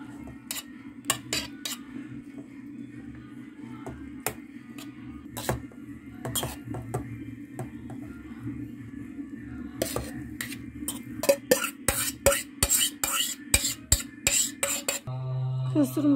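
A spoon stirs kısır, a bulgur salad with tomato paste, onion and parsley, in a bowl, making repeated sharp clicks and scrapes that speed up into a dense run of strokes near the end, close by and with no speech.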